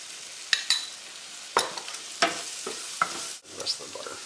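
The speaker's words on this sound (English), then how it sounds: "I'm going to take about a heaping teaspoon of the flour, put that in, stir this up." Flour being stirred into melted butter in a pan to start a roux, with scraping utensil strokes and soft sizzling in irregular bursts, close and moderately loud, no talking.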